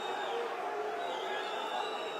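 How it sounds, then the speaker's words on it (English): A basketball arena crowd in the Basketball Champions League, UNET Holon against Iberostar Tenerife, reacts to a foul with a steady, dense roar of voices and shouts that holds at even loudness throughout. "The crowd did not like it"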